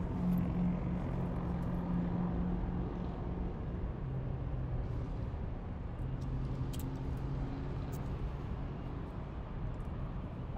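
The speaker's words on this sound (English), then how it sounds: "This is China Southern Cargo coming in from Shanghai on their 777 freighter." A China Southern Cargo Boeing 777 freighter inbound from Shanghai lands at LAX, a steady distant jet rumble with low engine drone holding evenly throughout, no voices.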